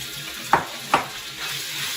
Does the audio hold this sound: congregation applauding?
no